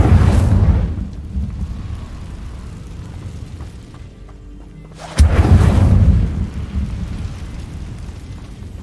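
Incendio fire spell cast in the Hogwarts Legacy video game, heard as a loud roaring whoosh of flame that fades, then a sharp crack and a second rumbling fiery burst that slowly dies away.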